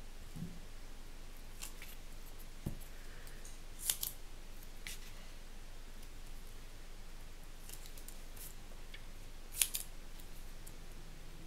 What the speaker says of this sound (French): on va s'amuser à couper le double face évidemment